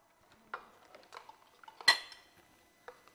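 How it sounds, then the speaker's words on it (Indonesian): An egg is cracked with a fork into a container held in the hand, giving faint clinks and taps followed by one sharper crack, close and quiet with no talk. "Lalu telurnya kita pecahkan di wadah"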